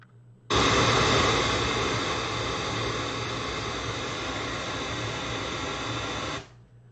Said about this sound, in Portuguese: soa como se fosse um chiado, né? Um ruído branco